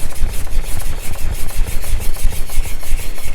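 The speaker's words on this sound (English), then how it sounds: "the diamond lapping film will allow me to, by hand, very closely work on some of that finish" Steady rhythmic rasping as a Japanese kitchen knife edge is worked by hand back and forth on diamond lapping film, close and loud, repeating in quick even strokes with no talk.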